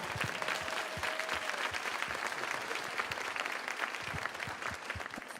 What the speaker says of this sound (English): One more round of applause for all these amazing people.